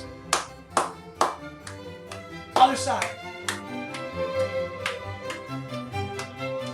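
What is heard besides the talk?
hands clapping the beat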